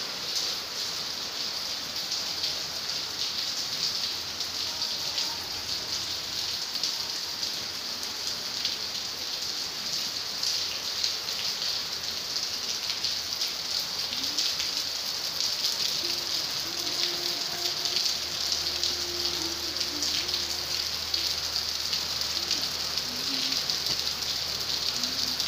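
Heavy rain pours down outdoors during a night of lightning, a steady, dense hiss of falling water that holds constant and loud throughout, with a faint low hum underneath and no talking.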